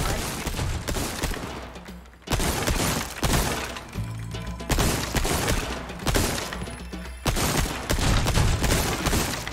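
Repeated heavy shotgun blasts at a shooting range in Resident Evil 4 Remake, about five loud booming shots spaced roughly two seconds apart, each with a crashing, shattering tail of targets breaking.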